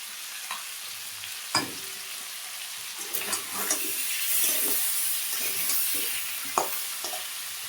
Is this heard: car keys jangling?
no